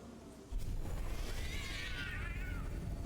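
Cats meow in the video game 1666 Amsterdam, with one drawn-out, wavering meow rising over a constant low ambient rumble.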